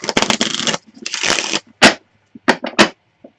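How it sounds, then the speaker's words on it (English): Tarot cards shuffled by hand in several quick riffling bursts, each a papery flutter of a few tenths of a second, with short pauses between them and no talk. "while I shuffle the cards"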